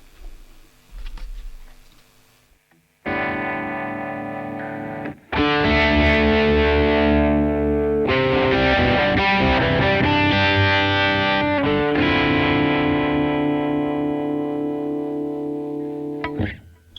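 A distorted electric guitar plays sustained chords through a Blackstar ID Core V3 amp with a pulsing tremolo effect, loud and close, with brief pauses between strums.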